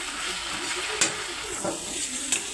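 Okra cooking in a pan gives a steady wet hiss, fairly faint and continuous, broken by a couple of brief sharper crackles.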